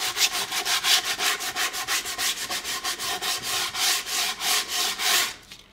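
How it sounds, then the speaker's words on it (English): Sandpaper is rubbed by hand over a wood-burned wooden sign in quick, even back-and-forth strokes, about two dozen loud scratchy passes close up before it stops. "I'm gonna do sanding is my cardio today"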